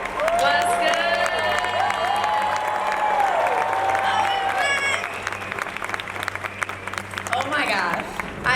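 A large convention crowd in Hall H claps and cheers for a guest, with loud sustained applause, whoops and a voice calling out over the clapping.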